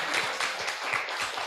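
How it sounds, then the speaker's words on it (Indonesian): An audience at an alumni geology talk breaks into dense, sustained applause, many hands clapping steadily and fairly loud throughout. "Tepuk tangan dong"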